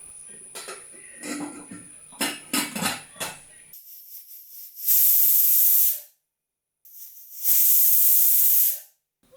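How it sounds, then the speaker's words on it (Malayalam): Utensils clink and clatter, then a pressure cooker cooking pineapple lets out two loud, sharp hissing whistles of steam, each lasting about a second. "രണ്ട് വിസിൽ വരുന്നത് വരെ വേവിച്ചെടുക്കണം"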